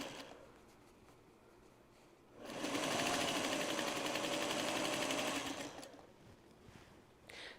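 A sewing machine stitches quilt binding at an angle, a steady rapid whirring run of about three seconds that ramps up and then winds down, with no talk.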